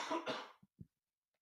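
A podcast host's cough, loud and close: two harsh bursts, then a couple of short throaty catches, a pause, and the start of a sharp hiss at the end.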